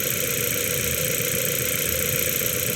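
A car engine with a faulty injector idles with a steady, continuous rumble and a faint uneven knock, close and loud, with no one talking.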